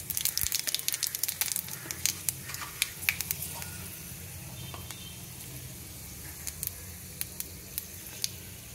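Chili and five-spice seeds sizzle in a hot kadai with potatoes, a soft steady frying hiss close by with crackles and pops breaking out, busier at first and sparser toward the end.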